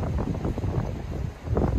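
Wind blowing along a harbour wall in Cala Ratjada, Mallorca, a steady close rumbling buffet against the microphone with gusts rising and falling, and no voices.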